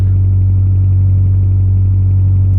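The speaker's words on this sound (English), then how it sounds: "Hopefully you can hear me over the engine. I'm just warming it up." A classic car engine idles steadily and evenly while warming up, a low rumbling hum holding constant throughout with no revving.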